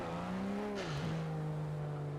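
The engine of a 1971 Porsche 917 LH race car in Forza Horizon 4 drones loud and steady at high revs, its pitch dipping briefly as it shifts and then holding on.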